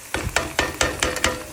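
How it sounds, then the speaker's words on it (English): Whole garam masala spices dropped into a pot for frying, six quick sizzling crackles in an even rhythm, close and clear with no talk. "So I'll just let them fry."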